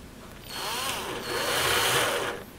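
A power drill spins up into the wooden front of a MAME arcade cabinet, a close, steady whirring burst of about two seconds that rises then trails off.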